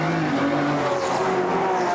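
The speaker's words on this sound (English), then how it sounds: "The Aston really does have it up and down the mountain where the V12 has got so much run." Aston Martin V12 GT3 race car at Bathurst's Mount Panorama circuit during an Australian GT Championship race, its engine a loud, sustained roar with shifting pitch as it passes close by.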